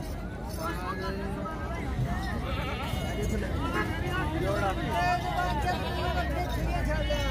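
Goats bleat repeatedly at a livestock market in Bahawalnagar amid a dense crowd hubbub, several overlapping calls near and far under constant chatter and voices.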